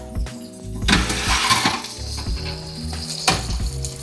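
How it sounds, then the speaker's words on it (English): Potatoes sizzle and crackle in a hot pan, with scraping and stirring clatter mixed in, close and fairly loud. "Sizzling."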